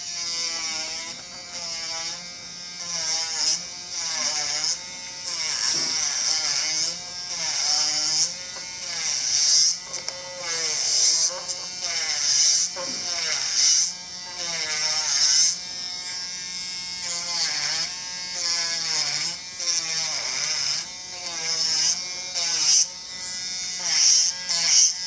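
An electric nail drill fitted with a carbide bit grinds away an acrylic nail. A close, continuous high whirring buzz wavers and dips in pitch as the bit bites and eases off over about 25 seconds, with no speech.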